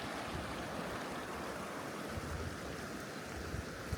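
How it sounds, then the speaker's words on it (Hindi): Continuous rushing water, a stream in Puga Valley, Ladakh, flowing steadily with a broad, even hiss and no voices. "ये पानी बह रहा है यहाँ से"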